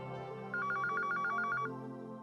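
An indoor telephone bell rings in a quick trilling burst of about a second over a low background hum, close and clear.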